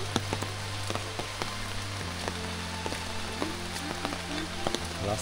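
Rain falls steadily in a forest during a storm, a dense continuous patter of drops on leaves and surfaces with scattered louder splashes, moderately distant and without voices.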